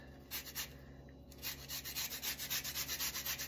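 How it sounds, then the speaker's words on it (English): Lemon zest being grated over a pan of pasta sauce, a quiet, close run of rhythmic scraping strokes that speed up and grow steadier toward the end, with no talk. "So in goes the zest."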